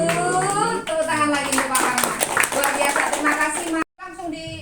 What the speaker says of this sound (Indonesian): Tepuk tangan lagi untuk Pak Parno